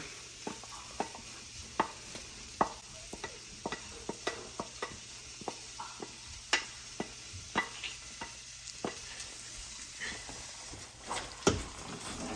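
Penne being stirred into a thick, creamy garlic sauce in a pot, making soft wet squelches and spoon scrapes in an uneven close rhythm over a faint background hiss.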